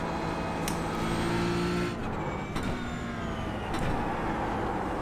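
Race car engine in iRacing lapping Phillip Island, a steady droning whine that drops and climbs through gear changes, with sharp shifts and revving, no talk.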